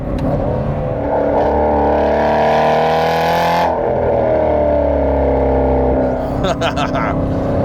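An Aston Martin Vantage GT8 engine while driving, heard from inside the car: a loud, rising, whirring drone that swells, drops back as the gear changes, then climbs again.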